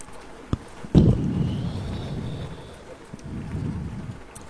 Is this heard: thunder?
yes